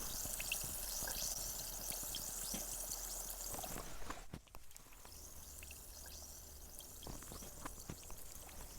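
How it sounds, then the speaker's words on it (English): A LOL Surprise fizz ball is dropped into water, with steady splashing, pouring and dripping that has a short break in the middle and then continues close by. "Let's place it in water."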